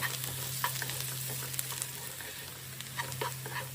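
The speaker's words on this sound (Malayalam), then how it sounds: "ഒരു പാൻ ചൂടാകുമ്പോൾ അതിലേക്ക് വെളിച്ചെണ്ണ ഒഴിച്ച് കടുക് പൊട്ടിച്ച് മുറിച്ച് വെച്ചിരിക്കുന്ന സവാള ചേർത്ത്" Onion with salt, turmeric and chilli powder sautéing in coconut oil in a pan, a soft, steady sizzle with occasional stirring scrapes and small pops, close and fairly quiet.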